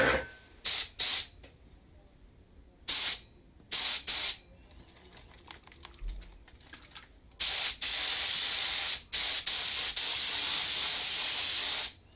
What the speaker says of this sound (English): spray it in the gun